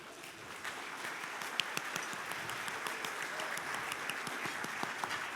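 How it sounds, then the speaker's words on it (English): An audience at a business hall of fame awards dinner applauds, a steady far-off wash of many hands clapping at low volume with a few sharper individual claps standing out. "applause."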